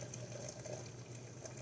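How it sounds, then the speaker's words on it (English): Hot water pours from a teapot into a French press coffee maker, a faint, steady trickling and hiss heard close up with no talk. "So I'll get my teapot. We're going to pour it in."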